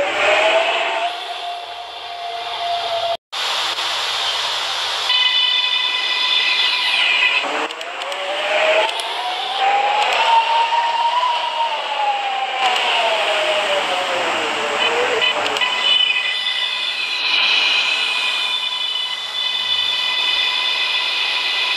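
An R143 New York City subway train on the M line in Roblox rumbles and whines steadily as it runs, its pitch rising and falling with speed, with a brief dropout early on.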